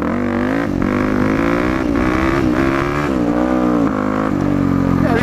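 A dirt bike engine revs hard in second gear during a wheelie, a loud, close, continuous motor drone with small rises and dips in pitch as the throttle is worked.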